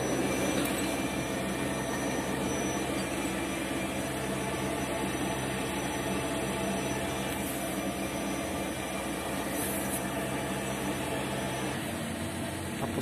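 The air supply fan on a greenhouse air heater runs with a steady, loud, broadband roar and whoosh that holds evenly throughout.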